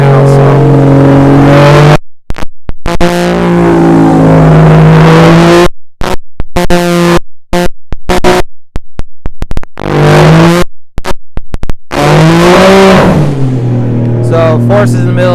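A tuned Nissan RB-series or Toyota JZ-series car engine runs and revs hard in a shop, loud rising and falling revs with abrupt cuts between bursts, close to the listener, with a brief spoken word.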